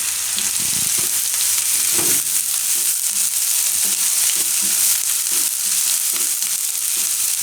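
Green garlic and green onion cook in a pan for soupy pasta, producing a constant close, bright sizzle with intermittent stirring scrapes and taps.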